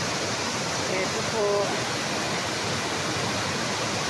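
Steady, full roar of a waterfall at Kambal Bato, a resort with swimming pools and slides, filling the whole clip with constant rushing water noise while a voice speaks briefly.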